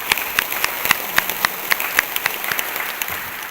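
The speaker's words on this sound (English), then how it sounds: "give yourselves a round of applause for being here tonight as well" Applause from the audience at a Stop the Hate community event, a dense steady patter of many hands with sharp individual claps standing out, fairly close and loud throughout.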